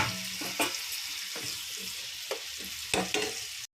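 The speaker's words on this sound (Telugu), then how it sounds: "ఆయిల్ వేసి ఉల్లిపాయ టమాటా ముక్కలు కూడా అన్నీ ఒకసారి వేసేస్తామండి" Onion and tomato pieces fry in hot oil with a steady close sizzle, broken by a few stirring scrapes and knocks against the pan.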